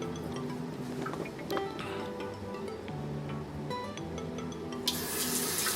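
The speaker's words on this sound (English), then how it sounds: "let's turn on the water." Water runs from a bathroom sink tap in a hotel room at Fiesta Americana Condesa Cancun, a steady, even rush that continues through the whole stretch, with faint clinks and a room hum behind it.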